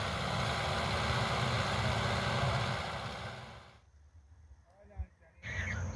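A tractor engine rumbles steadily at close range for a few seconds, then fades, leaving quieter background sound with a brief thump, on a farm during wheat sowing.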